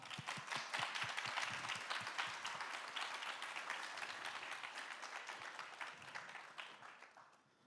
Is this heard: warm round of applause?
yes